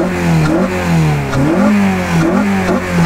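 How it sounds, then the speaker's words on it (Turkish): A modified Honda Civic Type-R FN2 K20 engine revs up and down repeatedly, its pitch climbing and falling in steady surges, with a loud throaty intake filter tone up close. "Belki filtre sesini duyurmuş oluruz."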